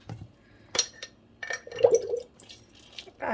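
Diluted liquid yarn dye glugs and bubbles as it is poured from a jar, giving a few soft wet gurgles and drips close by in a quiet room.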